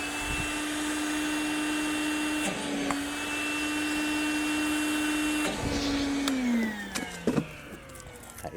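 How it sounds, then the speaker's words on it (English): A vacuum runs with a steady high whine, clearing dust from a hole drilled for a Tapcon concrete screw, briefly interrupted by a few clunks and shifts in pitch as the nozzle moves. "make sure you vacuum out the hole"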